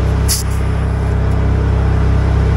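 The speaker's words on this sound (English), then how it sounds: "now that the generator idled down" A generator runs with a loud, steady, close engine drone, and a brief sharp hiss of air bursts out near the start.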